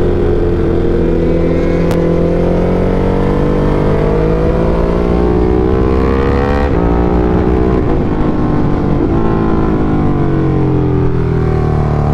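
An ATV engine revs hard and passes close on the Marilaque mountain road, a continuous loud roar whose pitch rises and falls as it goes by, with no talking.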